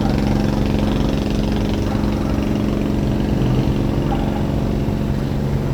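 Diesel fishing boat engine running steadily as boats depart, a loud, close, continuous low drone with constant chugging texture throughout.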